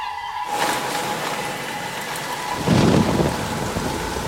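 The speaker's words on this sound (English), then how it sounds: "It rained incessantly." Heavy tropical monsoon rain pours steadily, a dense continuous hiss, and a low rumble of thunder swells in partway through.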